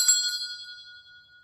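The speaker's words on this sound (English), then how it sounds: "By the ring of this bell, I am calling forward all spirits" A single strike of a hand bell during a paranormal investigation in a church, a bright metallic ring that fades out quickly over about a second in otherwise quiet surroundings.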